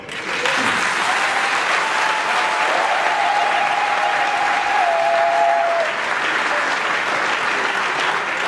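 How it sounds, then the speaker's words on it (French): Crowd applause at an opposition political rally in Congo, loud and sustained for about eight seconds of dense steady clapping, with a faint whistle-like tone partway through and no speech over it. "je vous demande de l'applaudir très fort"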